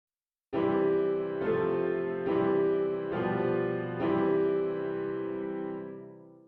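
A sustained instrumental major chord struck several times in a steady rhythm, bright and consonant, then ringing out and fading at the end.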